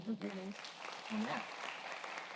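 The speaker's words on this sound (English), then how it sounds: "Let's give one more round of applause," Audience at a debate on open borders applauding after the debaters, soft clapping from a distance that follows brief voices at the start and continues as a faint, steady patter.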